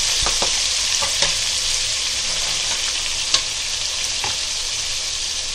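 Onion paste sizzling steadily in a pan for chicken white biryani while a spoon stirs it, with a few light scraping clicks over the continuous frying hiss.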